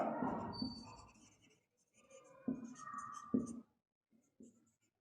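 Chalk or marker strokes on a board during an accountancy lesson on journal entries: short scratchy bursts separated by pauses, close and fairly clear, with no talk over them.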